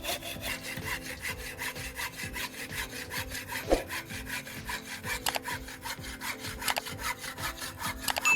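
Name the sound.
hand saw cutting wood held in a vise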